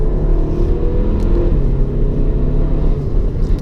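A 365-horsepower Seat Leon ST Cupra R estate accelerates in Sport mode on a road, its engine a loud, deep, steady drone heard from inside the car with no voices.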